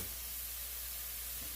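Orzo, broccoli and riced cauliflower frying together in a pan, a steady close sizzling hiss that holds evenly throughout with no talking.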